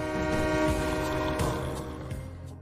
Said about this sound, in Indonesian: Dari kejauhan terdengar suara sirene kereta.